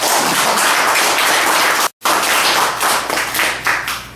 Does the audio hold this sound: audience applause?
yes